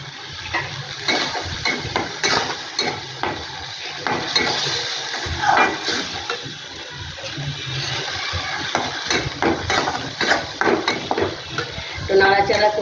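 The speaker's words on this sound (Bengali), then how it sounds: "লঙ্কা এটা দিয়ে একটু নাড়াচাড়া করতে হবে" Chilli being stirred in a pan while making homemade Schezwan sauce, a busy run of scraping, clinking spoon-on-metal strokes with soft frying hiss underneath, close and fairly loud, continuing in irregular bursts throughout.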